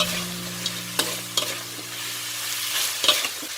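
Fish pieces are tossed with seasoning in a hot pan, giving a steady sizzle broken by a few sharp scrapes and clinks of the utensil against the pan. No one speaks.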